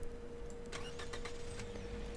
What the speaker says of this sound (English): And we'll get the engine on as soon as possible.